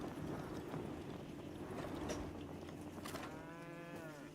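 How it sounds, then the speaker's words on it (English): Cows mooing in the Lego Fortnite video game, several drawn-out moos rising and falling over a steady game ambience, with a soft clopping of hooves in the background. "we seem to have an invasion of the cows"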